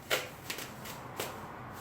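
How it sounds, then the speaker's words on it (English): Plastic sheeting is cut and handled to cover car tires before painting rims: a few sharp crinkling rustles and snips, close and brief, with quieter handling noise between them. "Just cut off a decent amount, like about that much."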